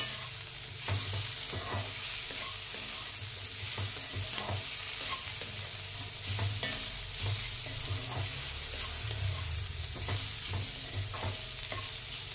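Radish leaves and potatoes fry with spices in a pan over a high flame, a steady close sizzle running throughout while a utensil stirs and scrapes in repeated irregular strokes.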